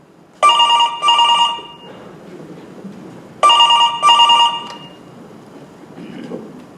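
An old-style telephone rings twice onstage in a Marathi play, each ring a pair of sharp trilling bursts about three seconds apart, with faint room murmur between.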